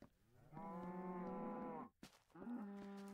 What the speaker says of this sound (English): the only thing in here is cows at this moment in time